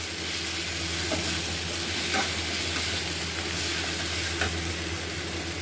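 Prawns fry in a spice masala for an Indian prawn and jackfruit curry, giving a steady close sizzle with a few soft scrapes and clinks of stirring over about six seconds.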